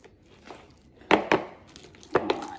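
A masher pressing food in a round bowl, a few sharp, close squelching thumps with soft scraping between them.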